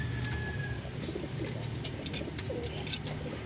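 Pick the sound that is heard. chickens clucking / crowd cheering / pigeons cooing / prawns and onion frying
pigeons cooing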